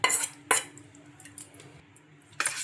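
A spoon mixes cooled tempering into wheat flour rava dosa batter in a bowl, giving a few sharp clinks against the rim at the start and near the end, with softer scraping and squelching between them.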